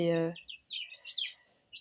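Young chicks being fed and shown give several high, thin cheeps in short bursts after a brief moment of voice at the start, fairly close and moderately loud.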